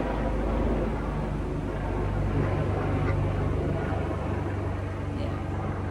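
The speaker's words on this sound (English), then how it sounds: "Oh, helicopter, actually." A helicopter flies overhead, its steady low rotor rumble and broad engine roar holding loud and continuous throughout with little change in level.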